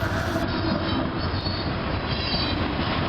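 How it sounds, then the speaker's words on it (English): A K freight train led by an ex-Conrail locomotive with Union Pacific power, including an SD90MAC, rolls past close by with a loud continuous rumble, rattling cars and squealing wheels. "we have a K train with a X-Conrail leading with some UP power"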